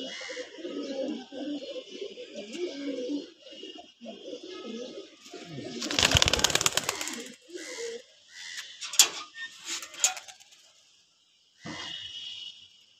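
Pigeons cooing inside a pigeon loft, low murmuring coos at the start, then a burst of rattling wire and mechanical clatter with scattered sharp knocks, and a short pause before faint activity resumes.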